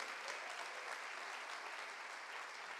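A church congregation applauding during a Quadrangular service, a steady, even wash of many hands clapping throughout, fairly distant and without breaks.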